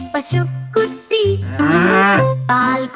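A calf moos several times in a children's song, each moo loud, close and drawn out, separated by short pauses.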